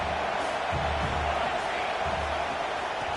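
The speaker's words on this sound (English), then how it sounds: "This crowd going to try to make life miserable for these guys." Steady roar of a football stadium crowd, a dense continuous wash of many voices filling the space, with a few low thuds and faint commentary-like talk underneath.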